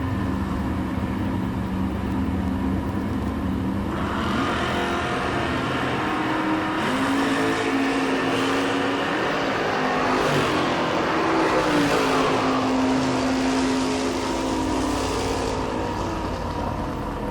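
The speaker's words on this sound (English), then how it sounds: "Driving that pretty cool Camaro." A Chevrolet Camaro and a Monte Carlo SS make a drag strip run, their engines roaring and revving loudly in a continuous rising drone, heard from the track side without talk.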